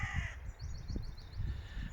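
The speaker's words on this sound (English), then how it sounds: "You can see a crow up there, crowing away." A crow caws from up in a tree, a quick string of about six harsh calls at moderate distance over low outdoor rumble.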